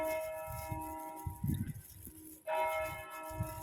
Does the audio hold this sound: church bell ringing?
yes